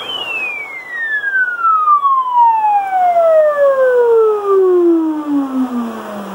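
Cobra 29 CB radio on lower sideband: a clear VFO tone sweeps steadily downward in pitch with faint parallel harmonics over several seconds, alone and fairly loud.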